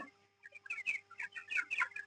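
Twenty-day-old broiler chickens on a poultry farm clucking and peeping in a close, busy chorus of short overlapping calls, with no talk.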